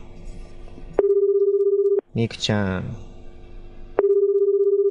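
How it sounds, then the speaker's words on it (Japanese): Ringback tone of an outgoing telephone call: a steady electronic purr sounds for about a second, breaks off for a brief spoken interjection, then starts again for another second-long ring. "電話してみましょう"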